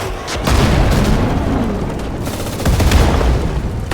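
Gunfire and heavy booms from a Sudden Strike 4 World War II strategy battle, with Churchill tanks and German forces, rumbling continuously with repeated close shots and explosions throughout, no talking.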